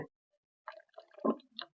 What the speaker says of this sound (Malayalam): കുറച്ചുകൂടെ വെള്ളം ഒഴിച്ചു